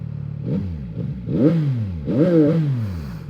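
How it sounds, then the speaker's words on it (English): A CFMOTO 675NK motorcycle engine runs close up in neutral, rising and falling in repeated short revs against a soft limiter rather than holding a steady idle. "Let's listen to the engine."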